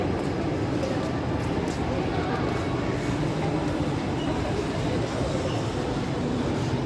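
An MRT train rumbles through Blok M BCA station in Jakarta, a steady, dense rolling roar of wheels and carriages heard close and continuous throughout.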